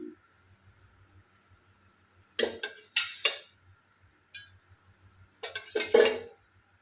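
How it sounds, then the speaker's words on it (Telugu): A metal pan is set on a lit stove for palak paneer, with a few sharp clanks and clinks of cookware and utensils over a quiet background. "ఇప్పుడు ప్యాన్ పెట్టుకుందాం ఇప్పుడు ఒక త్రీ స్పూన్స్ ఆయిల్ వేసుకుందాం"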